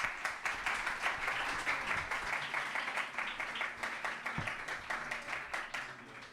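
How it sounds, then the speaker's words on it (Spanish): An audience applauds the authors at a Spanish book event, a steady round of clapping with a clear rhythmic pulse from many hands, holding moderately loud throughout. "Un aplauso para ellos."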